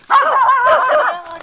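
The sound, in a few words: dog barking at speaker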